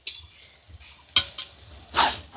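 Prawns frying in a pan in a home kitchen, with brief bursts of sizzle and stirring scrapes coming and going over a quiet background, including a louder sizzling surge near the end.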